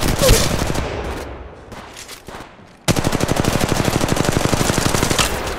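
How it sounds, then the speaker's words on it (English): Rapid automatic gunfire in a squad firefight in Apex Legends Mobile: a loud, steady stream of evenly spaced shots fills the second half, after scattered quieter bangs and ambient game noise. "We got another squad opening fire."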